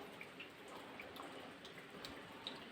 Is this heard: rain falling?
yes